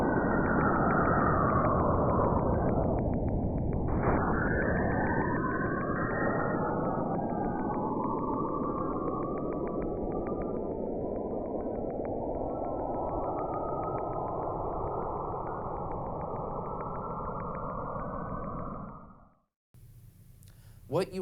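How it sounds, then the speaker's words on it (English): Saturn–Enceladus plasma waves recorded by the Cassini spacecraft and converted to sound: a continuous dense buzzing drone with slowly falling, sweeping tones, loud and unbroken for nearly twenty seconds before cutting off. "What you are hearing is the interaction between Enceladus and Saturn through plasma waves."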